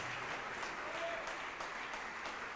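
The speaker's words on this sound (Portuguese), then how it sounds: "Vamos aplaudir mais ao nome de Jesus" A church congregation applauds in a steady, continuous wash of clapping that sounds faint and distant throughout.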